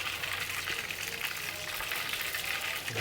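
Mustard seeds tempering in hot oil in a cooking pot, a steady close sizzle and crackle running unbroken for the whole stretch, with no voices over it.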